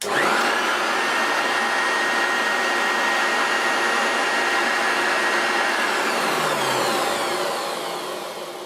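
A Hoover Turbopower Junior U1220 upright vacuum cleaner motor drones steadily at close range with a high whine, then powers down and fades out near the end.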